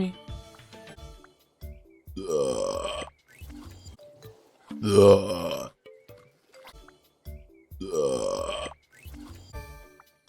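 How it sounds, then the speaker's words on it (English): Several loud, drawn-out burps, guttural and croaking, come one after another with short pauses between them and some brief vocal sounds in the gaps. "Burps are peak, yeah."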